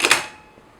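A Nikon FM camera's film advance lever is wound: a quick pair of crisp mechanical clicks close up, then a fading metallic ring, with no talk.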